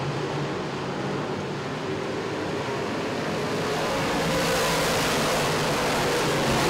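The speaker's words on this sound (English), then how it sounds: "Here come the NASCAR Sportsmen." NASCAR Sportsman race cars approach on the Grandview Speedway track as a dense engine roar swells steadily louder and nearer, with no voices over it.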